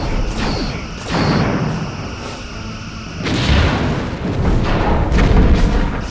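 Starship torpedoes fire in Star Trek: Bridge Commander as repeated loud booming launches with mechanical whooshes, several distinct blasts spaced a second or two apart and no talking.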